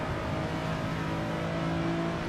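Custom engine sound on a car in the Assetto Corsa racing game at Road America: a steady, loud engine drone with sustained harmonic tones, held at constant revs, no talk.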